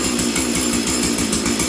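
A flooded small engine on fast idle runs loudly and close, with a rapid, even, rattling pulse throughout.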